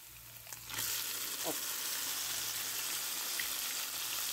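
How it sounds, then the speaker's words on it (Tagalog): Marinated chicken hitting a hot pan for a zucchini stir-fry, bursting into loud continuous sizzling after a brief quiet start and holding steady to the end. "ilalagay na natin yung ating marinated chicken"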